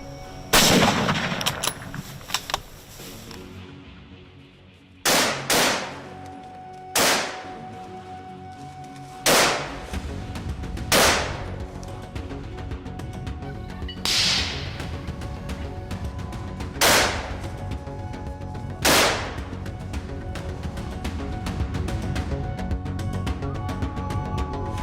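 Winchester .308 rifle shots fired at wild boars outdoors: roughly nine loud, sharp cracks ring out at spaced intervals of a couple of seconds, each with a brief echoing tail over steady background noise.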